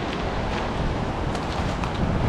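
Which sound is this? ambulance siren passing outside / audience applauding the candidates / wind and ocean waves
wind and ocean waves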